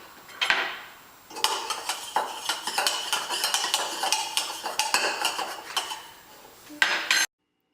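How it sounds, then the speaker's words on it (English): A 12-month-old child stirs a spoon in a cup during a motor skills test, making a rapid series of close metallic clinks and scrapes against the cup. "she was able to stir the spoon in the cup"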